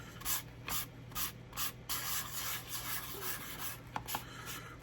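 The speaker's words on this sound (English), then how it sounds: "1000 grit sanding pad" A 1000 grit sanding pad rubs over the vinyl top of a scale model car in short, close, rhythmic back-and-forth strokes, soft and scratchy.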